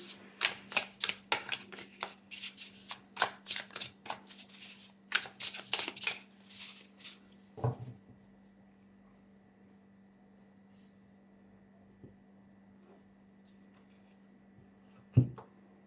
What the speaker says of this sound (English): I'm like mixing the cards out of frame